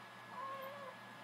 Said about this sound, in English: Oh, now it's a cat video.